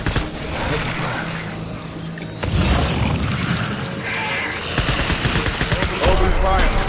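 Rapid gunfire from a Death Stranding firefight, a clattering fusillade of shots and mechanical rattles that steps up louder partway through, with a voice speaking over the shooting.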